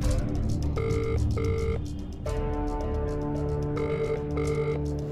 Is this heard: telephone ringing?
yes